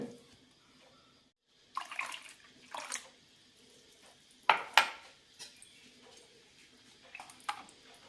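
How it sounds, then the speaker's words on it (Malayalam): Water is poured into semolina dosa batter in a few short splashing bursts, with quiet mixing and clinking sounds in a still kitchen. "മാവ് നന്നായി മിക്സ് ആയിട്ടുണ്ട് ഇനി ഇതിലേക്ക് കുറച്ചുകൂടി വെള്ളം ഒഴിക്കാം"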